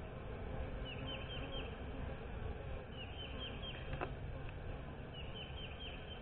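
Honeybees hum in a steady, dense drone during a beehive inspection with no queen or swarm cells in sight, a continuous close buzz filling the whole stretch with no talk over it.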